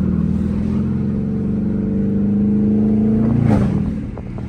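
A Dodge Charger RT engine revs hard and steady while drifting through a street corner, a loud sustained mid-pitched drone that swells and rises before easing off near the end.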